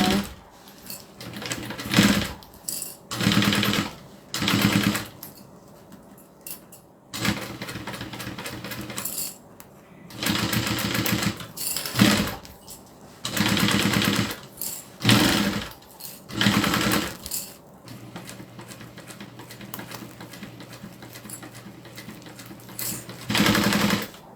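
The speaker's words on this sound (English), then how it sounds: "now I'm just going to sew all the way, and our edges are now covered" A sewing machine stitches along fabric edges in repeated bursts of rapid mechanical whirring, starting and stopping every second or two, close and fairly loud with no talk.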